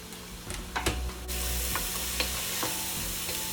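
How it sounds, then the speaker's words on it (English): Canned tomatoes and a vegetable medley sizzle steadily in a hot pan, with a few close clicks and scrapes of stirring over the constant frying hiss. "Cook these vegetables first because these are technically not cooked yet"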